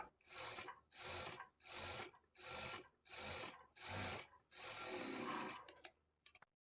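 A sewing machine stitches a folded lining blouse belt in six even bursts of rapid whirring, each about half a second long, followed by one longer run and a few soft clicks at the end.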